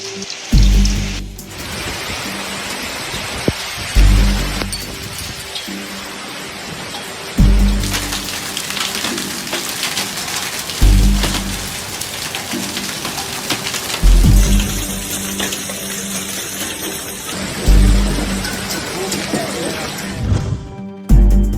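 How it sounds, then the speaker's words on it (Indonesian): Heavy rain pours down during a tropical storm bringing strong winds to Japan, a loud, steady hiss of water on surfaces with recurring low thumps and gusty surges. "Badai mengguyur pengungsi Jepang."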